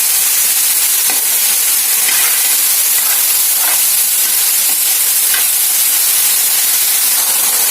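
Ridge gourd curry, cooked without added water, is stirred in a hot pan: a continuous loud sizzling hiss with soft scraping strokes of the spoon recurring every second or so, and no voices.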